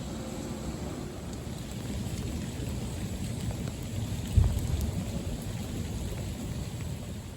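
Steady rain falling outdoors during a thunderstorm, a constant hiss of drops throughout, with one short low thunder rumble near the middle and no voices.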